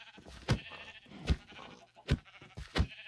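Sheep in the Minecraft video game bleat four times in a row, short wavering cries spaced over a few seconds above a faint background hum.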